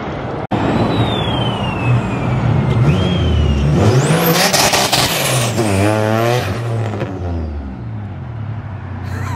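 Turbocharged Nissan 370Z accelerating hard after a dyno tune, engine note climbing steadily with a rising turbo whistle and spool whine, loud and close from inside the car, easing off near the end.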